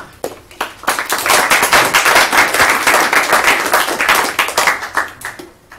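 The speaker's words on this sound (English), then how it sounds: "Let's give another round of applause to the speaker" Sustained audience applause at the close of a mathematics lecture, dense hand claps swelling quickly, holding steady and thinning out near the end.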